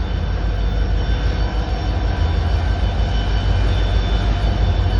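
A train crossing the New Pamban Bridge gives a steady, loud, close rumble with heavy low-frequency roar and no break, and no voices over it.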